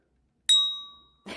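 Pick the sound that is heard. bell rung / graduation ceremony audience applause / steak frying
bell rung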